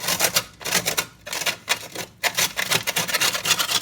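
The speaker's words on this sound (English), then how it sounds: "So we're going to grate this so that it goes into the cream and caramel mixture." Rapid rough scraping strokes of a Peppermint Crisp chocolate bar rubbed against a grater over a cream and caramel mixture, close and fairly loud, in uneven bursts with short pauses and no talking.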